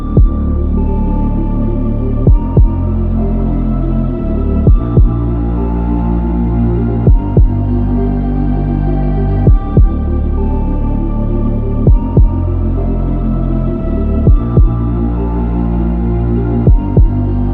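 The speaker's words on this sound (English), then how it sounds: "Fan is spinning, there's no rubbing or anything, which is fantastic." Cooling fan turning on a Stimson Mini Bug, a steady close low hum with a faint knock recurring about every two and a half seconds, no other sounds.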